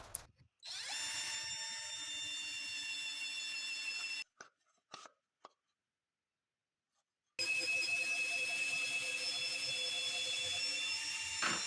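A cordless drill bores pocket holes in 2x4 wood with a jig, whirring in two steady bursts separated by short clicks and a pause of silence, the second burst starting up strongly at the end.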